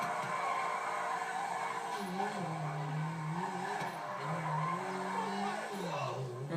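Car tires squeal and skid in long wavering bursts while drifting in GTA 5, the screech rising and falling with the slides over a continuous engine drone.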